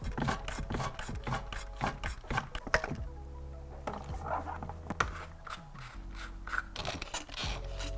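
Hand pump drawing coolant out of the expansion tank of an F80 BMW M3. It makes rapid rhythmic rasping strokes, then a quieter gurgling suction as fluid is pulled through, all close up.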